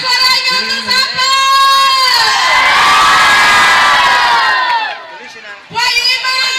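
A large crowd of spectators cheers, whoops and shouts at full volume, with children's voices prominent. The roar swells and holds for several seconds before dipping. A person talks over the noise at the start and end.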